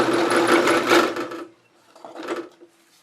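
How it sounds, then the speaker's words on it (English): Drill press boring a hole into a wood log for a woodworm screw mount, a close, steady mechanical whir with a short grinding pass, then a quieter second burst. "I'm going to drill a hole for my woodworm screw right there"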